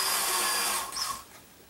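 A power drill whirs loudly for under a second while drilling holes in a rubber pad, then winds down and fades into quiet.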